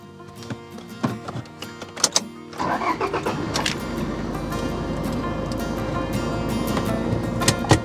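A car engine on a goat farm cranks and catches after a few scattered taps and clicks, then settles into a steady, close running rumble with some irregular knocks on top.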